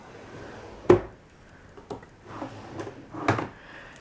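A wooden drawer in a cozy craft room being pulled open and handled, a sharp knock followed by several softer slides and clunks spaced over a few seconds, fairly quiet and close.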